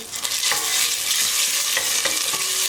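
Tomato paste fries in melted butter in a pot with a dense, continuous hiss and crackle up close, while a spoon scrapes and stirs in a few distinct strokes; nobody speaks.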